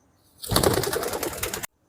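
Pigeons kept for long-duration flying give a single close, throaty burst of cooing lasting just over a second, with silence on either side.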